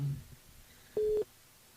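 A short electronic phone tone, a brief steady beep with a soft click before it, rings out once on a live French radio call-in show during a listener call, the rest near silent.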